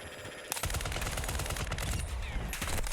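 Sustained automatic gunfire from a large-magazine gun in Call of Duty DMZ, a loud rapid stream of shots that starts abruptly after a brief pause and keeps going without letup, with no talk over it.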